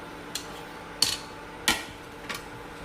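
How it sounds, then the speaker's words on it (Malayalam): Dried beetroot, carrot and apple pieces are dry-roasted together in a hot pan over a low-to-medium flame. Four sharp, close clacks sound at roughly even intervals against a quiet background, with no talking. "അപ്പം ചൂടായ ഒരു പാനിലേക്ക് ബീറ്റ്റൂട്ട്, ക്യാരറ്റ്, ആപ്പിൾ ഇതെല്ലാം ഉണങ്ങിയത് കൊണ്ട് ഇനി എല്ലാം കൂടെ ഒന്നിച്ചിട്ടൊന്ന് ചൂടാക്കി എടുത്താൽ മതി"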